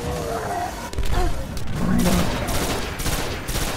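Sustained gunfire and impacts from the video game Destiny, a loud continuous barrage of shots with game effects filling the whole stretch, at a steady level throughout.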